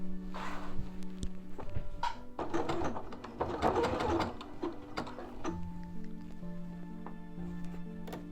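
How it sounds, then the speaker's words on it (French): A sewing machine stitches a stretch seam on a sweatshirt neckband, running in slow bursts of rapid mechanical ticking with brief pauses and handling noises between, close and fairly quiet. "réalisez une couture à la machine à coudre et au point stretch"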